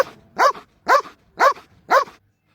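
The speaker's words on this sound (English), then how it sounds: "it imitates the natural sound of a dog barking" A dog gives four sharp, evenly spaced barks at close range, each short and loud, with a brief silence after the last.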